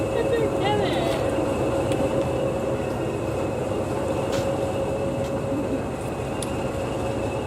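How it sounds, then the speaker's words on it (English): English Electric Class 20 diesel locomotive 2142, a 73-ton engine built at Vulcan Foundry in 1966, moves at Ongar with a steady, continuous engine drone and rumble throughout. "2142 heads to the back of the train to take the next train out to North Weald."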